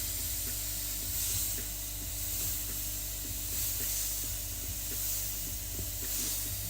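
A steady airbrush hiss sprays paint close by, gently pulsing as the brush moves in passes. A faint low hum runs beneath it the whole time.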